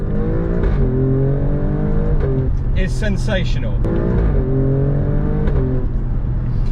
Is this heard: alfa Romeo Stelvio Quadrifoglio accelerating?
yes